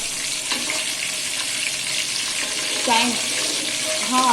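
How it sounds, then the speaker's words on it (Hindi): Whole spices fry in heated oil with a soft continuous sizzle, punctuated by brief metallic scraping and clinks of a utensil against the pan. "इसको थोड़ा हम फ्राई करेंगे"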